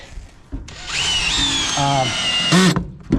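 A cordless power drill drives three-inch wood screws into timber while building a pressure washing truck, its motor whining up and bogging as the screw seats, close and loud, with someone talking faintly around it.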